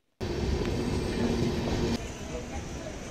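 The Garib Rath Express on the Secunderabad–Yeshwantpur run rumbles steadily from inside the train near a junction, a loud continuous roar that starts abruptly and drops slightly in level partway through.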